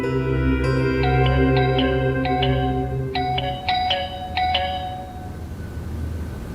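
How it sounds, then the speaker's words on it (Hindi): An electronic doorbell chimes a short multi-note melody, repeating its bright tones a few times over a low background hum. "शहरोज की बेल नहीं है ये, कोई और है"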